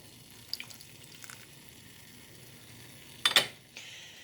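2% milk poured into a bread roll dough mixture of bread flour and spring water, giving a brief soft splash and trickle near the close, after a few faint small clicks in an otherwise quiet room.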